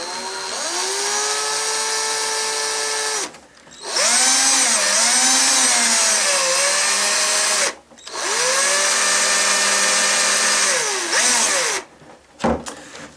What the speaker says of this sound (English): So what I need to do is to drill those out